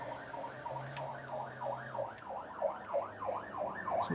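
Police car siren passing outside, a faint, distant wailing that repeats in a quick up-and-down pattern for about four seconds, heard alone without speech.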